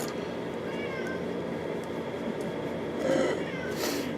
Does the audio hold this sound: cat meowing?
yes